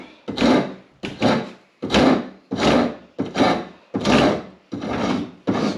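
A hand tool is drawn across wood against the grain while a snow snake is being shaped, giving about eight rough rasping strokes in a steady rhythm, each a short scrape with a brief gap between.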